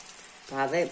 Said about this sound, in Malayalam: ഇനി ഇത് മൂക്കട്ടെ. മൂത്തിട്ട് നമുക്ക് വറുത്ത് കോരണം.